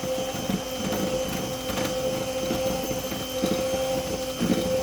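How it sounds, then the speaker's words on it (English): Condensed milk mixture being whisked by hand for no-machine ice cream, a steady scraping, rattling churn that runs throughout at moderate level with small clinks of the whisk against the bowl. "Give this a little whisk as we're doing it."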